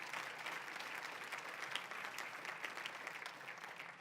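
A church congregation applauding, with continuous, fairly distant clapping and a steady crowd texture throughout, no speech on top.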